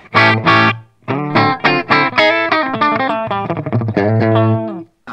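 Electric guitar through a Bad Cat Cougar 50H amplifier with reverb switched off plays a dry, loud riff of choppy, distorted chords and short phrases with abrupt stops.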